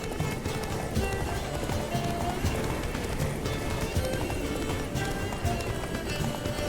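Hooves of a galloping horse in The Witcher 3 video game, with fast, steady clip-clop beats running through the whole stretch, layered with game background sound.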